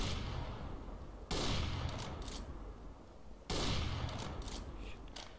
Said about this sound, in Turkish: Sise sıkıyoruz şu an